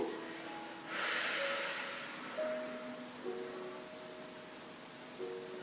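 A forceful breath out during a gymnastics class exercise, a short hissing exhale near the start that fades out, followed by faint tonal background hum and quiet room sound, with no voices.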